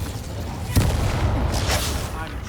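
An Incendio fire spell cast in Hogwarts Legacy, a sudden loud burst with a whooshing flare that trails into a roaring rush over a low rumbling game backdrop.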